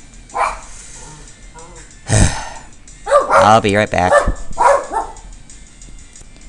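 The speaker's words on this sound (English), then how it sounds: "dogs are barking." Real dogs barking and growling in a room, several sharp barks and a growl close by, mixed in with someone talking over them.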